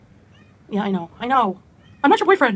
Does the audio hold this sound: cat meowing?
yes